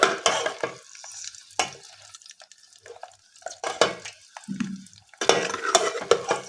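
Browned onions fry in a pan and are stirred and scraped, with intermittent close clatters and scrapes of the spoon between quieter gaps of soft sizzling.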